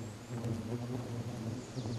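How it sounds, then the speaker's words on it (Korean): Wasps buzz close by as they turn alert to an intruder, a continuous droning hum with shifting pitch from several insects at once. "침입자를 경계하기 시작하는 말벌들."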